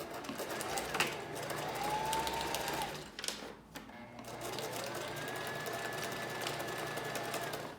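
Close, steady whirring of a sewing machine stitching Swiss lace for a lace closure runs through nearly the whole stretch, with a short break midway, and faint background voices or media sound underneath.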